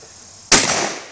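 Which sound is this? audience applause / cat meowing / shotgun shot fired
shotgun shot fired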